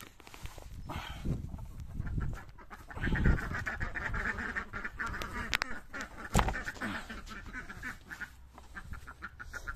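A flock of ducks quacks repeatedly at close range as they are herded toward their bed at dusk, irregular overlapping calls with a person's voice urging them along in between.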